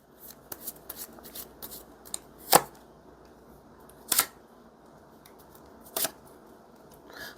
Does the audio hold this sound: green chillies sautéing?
no